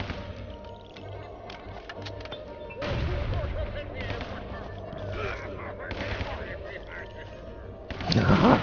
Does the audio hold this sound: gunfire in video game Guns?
yes